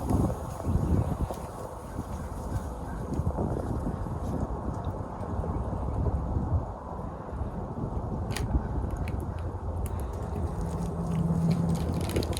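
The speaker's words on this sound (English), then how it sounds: "Get a lot of wind up here." Wind gusting steadily across a hillside beehive box facing due south, a constant low rumbling buffet against the microphone, fairly loud with no voices.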